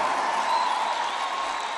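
A large crowd at a Trump rally in Kentucky applauds and cheers in a steady, dense roar of clapping and voices that holds throughout the short moment.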